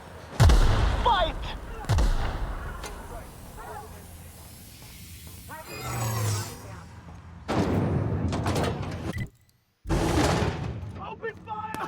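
Shots and explosive blasts ring out in The Outer Worlds combat, with several loud bursts separated by hissing and steamy noise, mixed with game voices.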